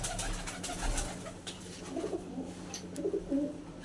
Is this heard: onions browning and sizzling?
no